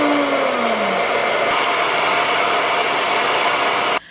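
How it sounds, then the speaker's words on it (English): A blow dryer runs at full blast drying hair, a loud, steady close-up roar with a brief falling whine at the start, cutting off abruptly near the end. "We got the blow dryer going."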